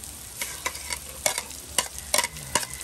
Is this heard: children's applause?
no